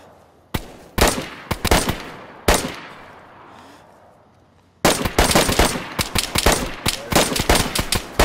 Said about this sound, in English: I just shot him in the head twice.